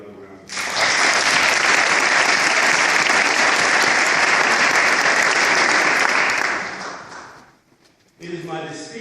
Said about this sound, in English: Let us give her another round of applause.